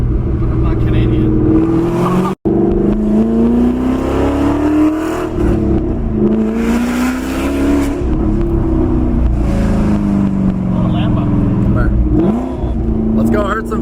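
Straight-piped Ford GT engine rumbling and revving loudly nearby on the street, a deep continuous roar with rising and falling pitch.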